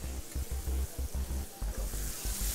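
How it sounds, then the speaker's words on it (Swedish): Butter sizzles loudly as meat fries in a hot pan in a restaurant line kitchen, a steady crackle with rhythmic scraping or stirring pulses underneath, close up and without speech. "Smör som steker kött, eller som svider in i köttet"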